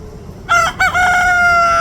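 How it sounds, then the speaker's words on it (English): A chicken crows loudly and close by in a drawn-out cock-a-doodle-doo, with a brief break before the long final note, over quiet outdoor background. "It's a paranormal chicken."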